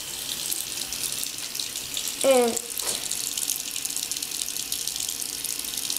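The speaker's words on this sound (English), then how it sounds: "Put on cold water." Cold water runs steadily from a sink tap, a continuous hiss throughout, with a brief spoken word partway through.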